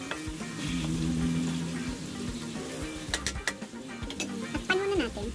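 Marinated pork hits a hot pan and fries with a steady low sizzle, followed by a cluster of sharp clatters and scrapes of handling near the end, close and moderate, with a faint voice briefly in the background.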